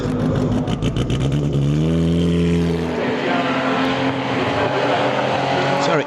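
A Ferrari 250 GT Berlinetta racing car at the Le Mans Classic roars loudly past, its engine note rising then dropping away, followed by track noise while a commentator talks.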